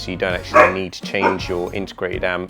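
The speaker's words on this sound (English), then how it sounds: "Apologies for my dog barking in the background" A pet dog barks and yips in the background indoors during a home hi-fi valve amplifier discussion, the short barks mixed under a man's close, continuous talking.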